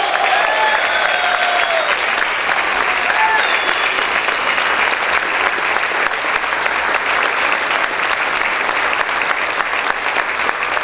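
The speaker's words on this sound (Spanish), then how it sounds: "Grita y aplaude fuerte al Rey de Gloria" Loud, sustained applause from a large church congregation during worship, dense and steady throughout with no pauses, a few faint shouts rising above it.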